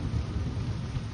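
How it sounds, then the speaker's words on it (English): Low, steady rolling thunder rumbles from a thunderstorm over drought-dry Nebraska, a continuous heavy roar with no distinct claps and no voices. "Nice little thunderstorm."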